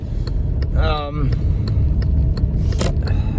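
A low-slung car is driven, its engine and road noise rumbling steadily underneath, with a brief rising whine and a few small clicks and knocks over the drive.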